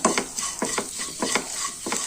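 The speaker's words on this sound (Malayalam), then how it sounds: "നമുക്ക് ആ സേമി ആദ്യം വറുത്ത് പോരണം" Vermicelli is stirred and roasted dry in a pan, a spatula scraping in repeated strokes over a soft continuous sizzle, close and fairly quiet.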